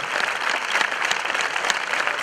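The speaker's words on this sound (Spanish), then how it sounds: "Fuerte aplauso." An audience at a Buyuk Kulup evening show breaks into loud, dense applause right after a sung tango ballad, a sustained crowd roar of many hands clapping close and even.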